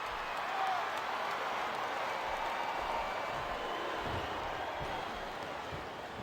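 A packed arena crowd in the Wii wrestling game WWE SmackDown vs Raw 2008 gives off a continuous wash of cheering and roar. It is fairly faint and even, with no clear peaks.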